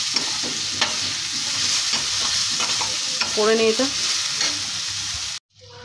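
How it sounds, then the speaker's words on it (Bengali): Bitter gourd and pumpkin fry with mustard seeds in a hot pan, giving a steady close sizzle broken by stirring scrapes. A short spoken phrase comes partway through, and the sound cuts off abruptly near the end. "সর্ষে ফোড়ন দিয়ে আর এটা উচ্ছে কুমড়োটা ভাজা করছি"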